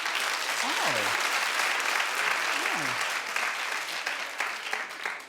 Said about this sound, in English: Clap if you have a bucket list.